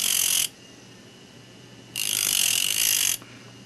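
A stone-setting bur is sharpened by grinding its metal teeth, producing two bursts of bright, hissing high-speed grinding separated by a quiet pause.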